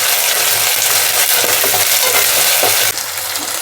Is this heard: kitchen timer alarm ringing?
no